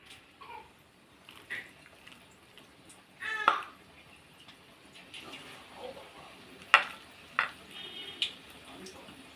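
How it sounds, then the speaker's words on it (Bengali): Small spicy onion pakoras, the Bengali piyaji, dropped into hot oil, a soft crackling fry under scattered spoon scrapes and sharper splashy bursts, fairly quiet and close with no clear talk. "এবার ছোট ছোট করে ভেজে নিতে হবে"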